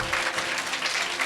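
A church congregation claps loudly in a brief, continuous burst of dense applause.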